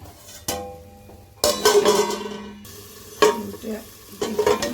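Potatoes sautéing in a pan, bursts of sizzling and clattering as a spoon scrapes and turns them, broken by short quieter gaps, close by and with no one talking.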